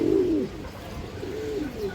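A male Naira Mooshaldam pigeon coos alone, close by, in two soft rolling calls over a steady low background.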